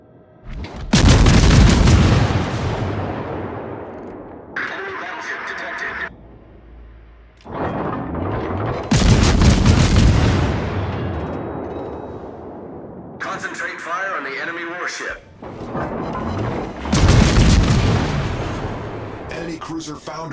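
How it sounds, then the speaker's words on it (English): Naval guns firing at an enemy warship in World of Warships, with several heavy booming salvos spaced a few seconds apart, each decaying into a long rumble, loud and close. "Concentrate fire on the enemy warship."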